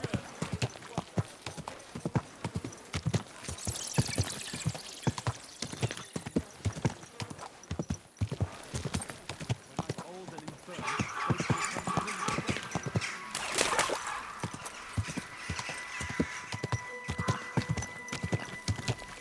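A horse walks slowly, its hooves clip-clopping in a steady, close rhythm throughout, with occasional snorts and a few spoken words over the steps.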